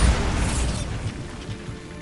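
A Bombarda spell explosion in Hogwarts Legacy, a deep, loud boom with crumbling debris that is strongest at the start and then slowly decays into a rumbling tail.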